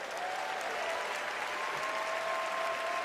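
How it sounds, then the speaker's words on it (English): Sustained applause from a huge crowd at the Democratic National Convention in Chicago, a dense, even roar of clapping at constant loudness with faint whistle tones running through it. "Let's give him a round of applause."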